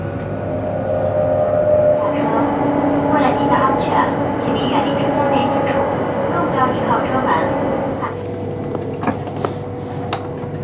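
Continuous low rumble of a high-speed train in motion between Beijing and Xi'an, steady and enveloping, with faint clicks and rattles rising toward the end.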